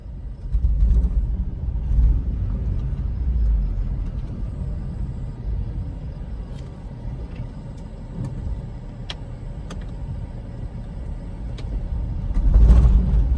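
A Toyota Prius engine running at low RPM with a faulty spark coil, a steady low rumble close by with faint irregular ticking clicks and a louder thump near the end.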